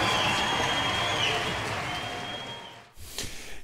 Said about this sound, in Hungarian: a taps, ami még a kulisszák mögött is dübörgött